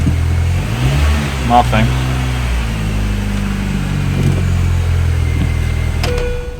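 A 2002 Mini Cooper with a CVT transmission idles in drive inside a garage without moving, a steady low engine drone running throughout with a brief faint rattle partway.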